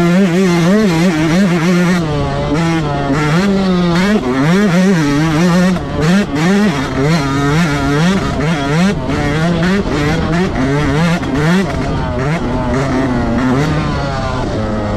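A 2024 Yamaha YZ125X two-stroke dirt bike screams loudly at close range, its pitch climbing and dropping repeatedly as the rider revs and shifts up through the gears on a test ride.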